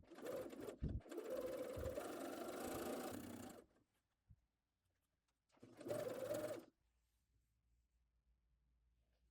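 A sewing machine stitches the sleeve caps of a dress in two bursts, a longer run of several seconds and a shorter one after a pause, close and whirring with silence between.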